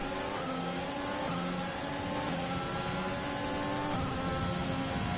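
A Formula One car engine in the F1 2020 racing game drones at a steady high pitch with shifting tones, continuous and loud, racing in rainy conditions.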